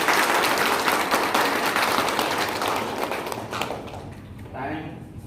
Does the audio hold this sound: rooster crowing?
no